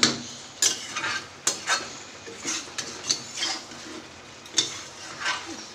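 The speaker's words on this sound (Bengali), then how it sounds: "বাদাম বাটা দিয়ে ভালো করে আমি কষিয়ে নিচ্ছি।" Chicken being sautéed in a pan with ground nut paste while cooking biryani: a spoon scrapes and stirs in repeated strokes, clinking against the pan, over a soft continuous sizzle, with no voices.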